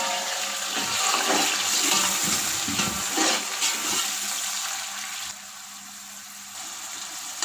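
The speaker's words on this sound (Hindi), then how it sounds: "अब हम थोड़ा सा पानी डाल के इसको ढक देंगे" Water poured into a pan of browned onions hisses and sizzles loudly for several seconds with stirring noises, then settles into a quieter, steady simmer.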